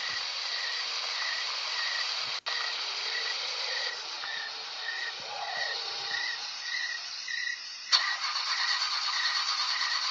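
A car engine in a video game cranks and fails to catch, a few mid-pitched churning attempts under a steady chirping cricket-like ambience, ending with a sharper mechanical burst.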